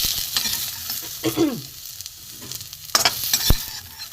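Food fries in hot mustard oil with a continuous bright sizzle, punctuated by stirring scrapes and a few sharp spatula knocks against the pan.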